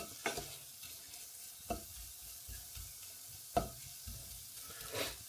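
Red onions sweat gently in a pan for onion gravy, a soft low sizzle broken by several light stirring clacks and scrapes, with no voices.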